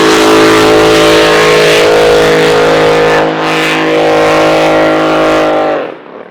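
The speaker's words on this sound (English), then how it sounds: "Boat really putting the power down." A racing boat engine roars at full throttle, loud and sustained with a steady droning pitch, briefly dipping before cutting off abruptly at the end.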